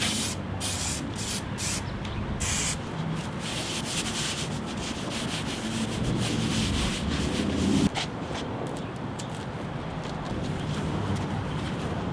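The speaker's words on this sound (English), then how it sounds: "Make sure you spray especially the edges." Hissing bursts of spray adhesive close by, broken up by scraping and rubbing noises, with no speech, while gluing a Land Cruiser 80 Series door panel.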